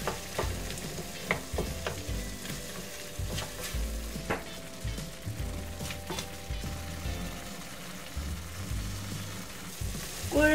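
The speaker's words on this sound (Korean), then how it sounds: "육수물 3스푼 넣고 섞어주세요" Korean soybean paste and red chili paste loosened with stock in a pan for gang-doenjang, stirred while it bubbles: a low sizzle with intermittent scraping and tapping of the spoon, moderately quiet and close.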